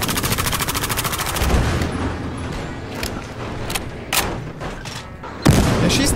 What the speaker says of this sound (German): Wer schießt denn da?